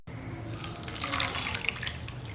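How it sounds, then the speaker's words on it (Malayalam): Water is poured into a kadai holding washed sago, a close, continuous splashing stream that starts after a brief pause and runs steadily to the end. "ഇനി ഇതിലേക്ക് വെള്ളം ഒഴിച്ചു കൊടുത്തിട്ട് വേവിച്ചെടുക്കണം"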